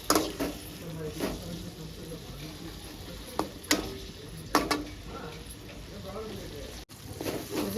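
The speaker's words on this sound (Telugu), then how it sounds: "చూడండి టమాటా బాగా ఫ్రై అయింది" Large pieces of tomato fry in oil over a low flame, giving a soft sizzle broken by intermittent stirring clicks and scrapes, fairly close and quiet.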